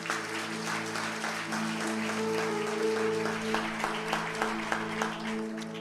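Church congregation applauding during a Portuguese-language celebration service, a steady dense wash of clapping that holds for several seconds over a sustained low organ or keyboard chord.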